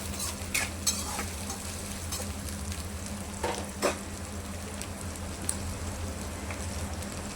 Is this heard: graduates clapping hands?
no